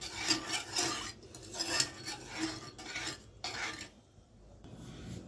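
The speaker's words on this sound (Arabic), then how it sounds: "وهنقلب جامد الاول قبل ما نحط الدقيق بتاعنا. ندوب السكر خالص." A spoon scrapes and rubs against a pan while sugar is stirred to dissolve it for a Turkish sweet, giving rhythmic gritty strokes close up that thin out toward the end.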